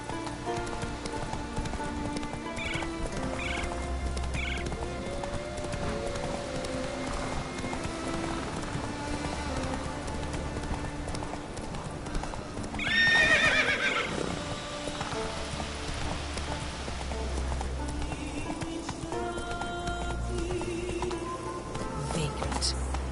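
A horse in the video game The Witcher 3, set in Skellige, with hooves clip-clopping steadily along, a whinny partway through, and rain falling in the background.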